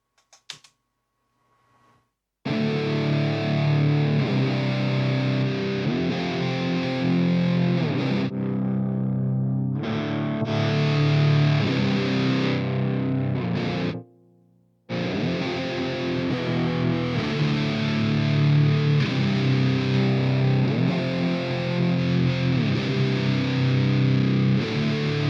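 Heavily distorted electric guitar played through an Audio Assault RVXX amp simulator plugin, loud sustained chords ringing close and dry with a brief cut partway, no talking.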